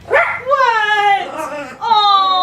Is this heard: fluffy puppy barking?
yes